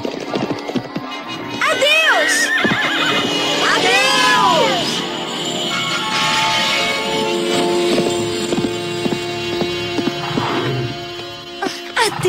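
A cartoon horse whinnies in a few rising, wavering bursts over a busy background of music and movement, followed by hooves and bright tonal sounds.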